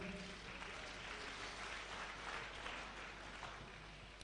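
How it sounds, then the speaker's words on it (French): A church congregation applauding: dense, continuous clapping from many hands, steady and even throughout, heard at low level. "Nous acclamons pour la sœur Edwige."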